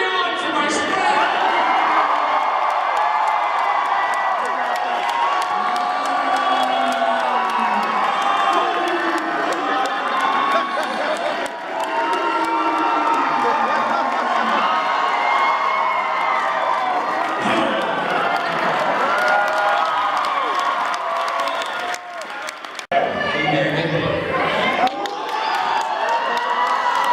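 A crowd at PAX East 2015 cheers and shouts continuously during a wrestling match, loud and close, with excited voices and yelling layered over the din and a brief dip near the end.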